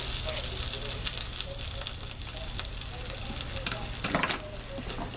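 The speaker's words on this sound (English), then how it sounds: "Listen to this sizzle." Steady, dense sizzling and crackling of pork cutlets frying in a hot pan, continuous and close, with occasional sharper pops.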